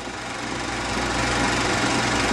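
A 1950 Allis-Chalmers WD-45 tractor engine runs steadily, a loud, continuous mechanical drone with a rough low rumble that holds even throughout, with no voices.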